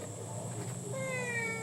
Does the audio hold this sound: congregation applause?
no